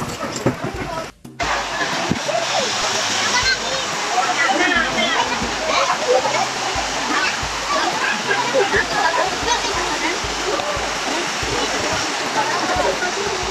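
Nagpana Falls in Barotac Viejo, Iloilo, Philippines, gives a steady, loud, continuous roar of falling water that fills the whole stretch, with faint voices mixed beneath it.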